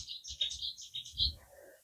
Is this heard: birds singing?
yes